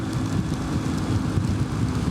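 Wind and rain buffet riders on motorcycles in a national park near the Arctic Circle, a steady loud rushing roar with low rumbling gusts throughout and no voices.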